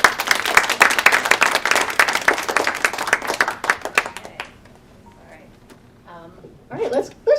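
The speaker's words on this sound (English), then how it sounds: "let's just give a round of applause for everybody" Audience applause at a town hall, dense clapping for about four seconds that then fades, followed by scattered faint sounds and short bursts of nearby talk.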